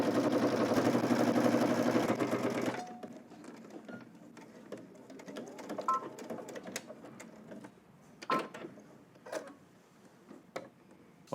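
A sewing machine basting a jacket collar seam at a half-inch allowance runs in a fast, dense mechanical whir for under three seconds, then stops, leaving faint handling clicks and rustles of fabric close by.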